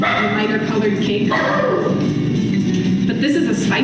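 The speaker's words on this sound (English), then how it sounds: "that's our dog, sorry about that" A household dog barks and yips in the background of a home kitchen while someone talks over it, the barks short and scattered across the few seconds.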